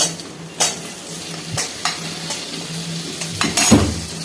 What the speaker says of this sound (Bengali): এখন আমি দিয়ে দিচ্ছি টমেটো কুচি